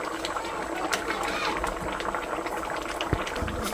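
Sliced onion sizzling in a little oil in a pan, a steady bubbling hiss with small pops, fairly quiet and continuous throughout.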